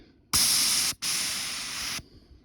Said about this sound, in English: Might as well do a little demonstration on this bear spray.